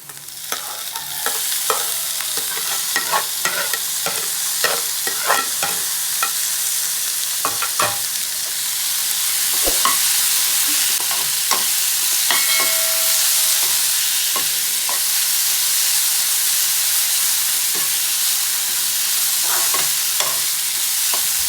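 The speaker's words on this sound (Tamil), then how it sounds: "தக்காளியும் பச்சை மிளகாயும் சேர்த்து நல்லா வதக்கிக்கோங்க" Tomatoes and green chillies sauté in a pan, loud sustained sizzling with frequent spatula scrapes and stirring clatter, steady and close for the whole stretch.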